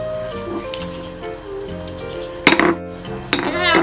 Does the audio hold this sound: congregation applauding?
no